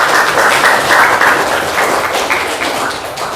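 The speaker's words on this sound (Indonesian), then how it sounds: "tepuk tangan untuk Indri" Applause from a classroom of students, a dense, steady patter of many hands clapping throughout, loud and close with no talk over it.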